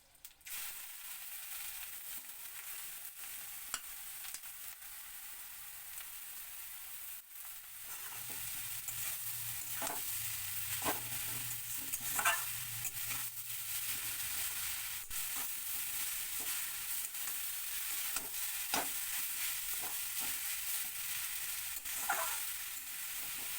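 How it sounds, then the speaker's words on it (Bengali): Grated radish tossed into hot spiced oil tempered with cardamom and cumin, a soft steady sizzle and hiss that swells midway, with occasional clinks and scrapes of a stirring spoon, close and moderately quiet. "এখন এতে আমি এই যে মূলোগুলো এই মূলোগুলো এর মধ্যে দিয়ে দেবো"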